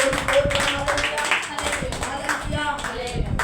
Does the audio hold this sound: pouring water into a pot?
no